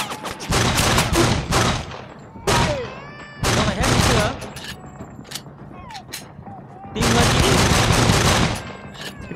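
Gunfire in the shooter game Shellshock 2: Blood Trails: loud, close bursts of rapid automatic fire in three long stretches, separated by quieter gaps with clanks and ricochet-like whines.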